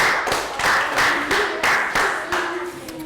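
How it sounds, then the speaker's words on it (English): A primary school class claps for a group of classmates, a ragged burst of rhythmic group clapping in about eight distinct pulses, close and fairly loud, with a few high children's voices calling out faintly. "Round of applause for Team Green."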